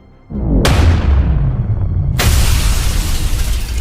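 A small, short, precise magical energy blast goes off on the ground, inside a spoken fantasy story. It lands as a loud deep boom, then a second crackling burst rolls out into a sustained rumble, with no voices over it.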